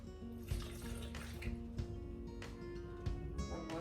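Fresh milk poured from a carton into a blender jar for a honeydew melon smoothie, a steady splashing liquid stream that runs for a few seconds with small bumps and knocks along the way.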